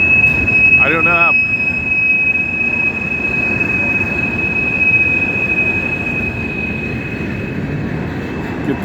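Train wheels squeal on the rails as a train departs, rising into a wavering high-pitched screech about a second in, over a steady whine and continuous low rumble of rolling cars, with a voice speaking briefly.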